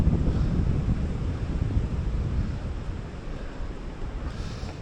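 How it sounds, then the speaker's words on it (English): Wind buffets a microphone outdoors during a mountain bike ride, a loud, continuous low rumble that rises and falls in gusts without letting up. "Damn, it's windy."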